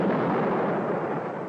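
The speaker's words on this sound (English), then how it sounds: "Fire missiles, concentrated direction." Missiles launched from a spaceship in a 1954 science-fiction film, a continuous loud roaring rush of noise that holds steady and fades slightly, with no talking.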